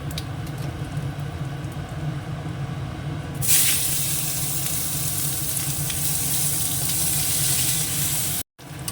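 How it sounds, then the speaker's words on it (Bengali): Chopped onion, whole cumin and dried red chili hit hot oil in a pan where potatoes and fish were fried earlier. A low kitchen hum gives way to a sudden loud, steady sizzle that keeps going, with no talking. "এবার দিয়ে দেবো একটুখানি গোটা জিরে আর দেবো হচ্ছে পেঁয়াজ কুচনো"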